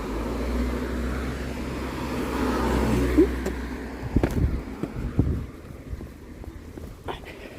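A car passes close by on a road beside the Thames Path between Oxford and Abingdon, its broad rumble swelling over steady wind buffeting, then giving way to scattered knocks and rustles.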